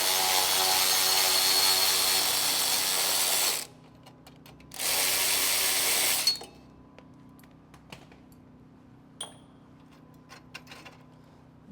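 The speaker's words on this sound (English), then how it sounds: "This clamp, I'm going to go ahead and take the nut all the way off." A power ratchet spinning the nut off a DPF clamp on a Cummins X15 diesel, two loud sustained buzzing runs separated by a short pause, followed by faint scattered clinks and quieter mechanical rattles.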